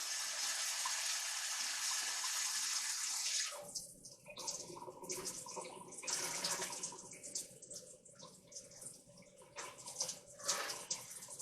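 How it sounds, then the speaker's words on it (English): Rice is washed under a running tap, first a steady gushing stream of water, then splashing and swishing as grains are stirred in the flowing water, close and continuous. "you need to wash rice"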